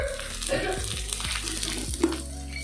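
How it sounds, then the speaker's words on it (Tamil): Chana dal and urad dal fry in hot oil in a pan, a steady close sizzle with faint stirring scrapes. No voice is heard over the frying. "உளுத்தம்பருப்பு எல்லாம் போட்டு ஃப்ரை பண்ணலாம்."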